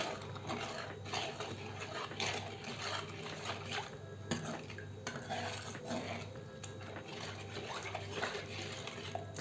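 A spoon scrapes and clinks steadily against a bowl while rice flour and water are stirred together, with a low hum in the background.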